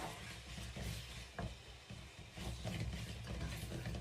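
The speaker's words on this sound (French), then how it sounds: "On mélange, bien mélanger." A spoon stirs mafé stew in a pot, soft scraping and wet churning with a faint simmering sizzle, quiet and close, with no voices.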